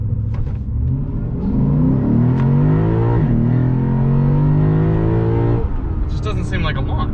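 A 2021 Lexus RC F Fuji launches hard on launch control. The engine revs climb and surge loudly from inside the cabin for several seconds, then ease off, while a voice talks over it.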